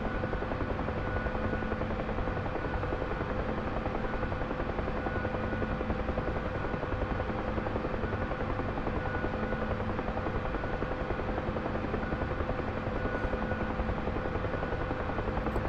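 UH-1H Huey helicopter cockpit in the DCS flight simulator, a constant loud rotor and turbine drone with a steady whine and buzz, unbroken throughout with no voices.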